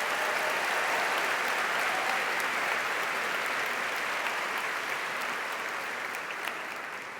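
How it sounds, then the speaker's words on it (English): A large conference audience at a closing plenary on climate activism applauds in a full, continuous roar of clapping that holds steady, then gradually thins toward the close with no talking. "Let's give him a huge round of applause."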